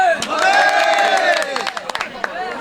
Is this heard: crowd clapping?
yes